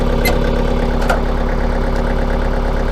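A tractor engine runs steadily and loudly at close range as the vehicle begins to pull away, with a constant low drone and faint knocking throughout.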